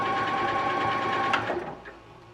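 A Janome Continental M6 sewing machine runs at full speed, a loud, close, fast steady whirring hum that holds for a couple of seconds and then winds down as stitching stops.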